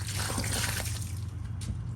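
Water poured out onto garden soil, a steady close trickling and splashing flow that runs the whole time without pause, with a low hum underneath.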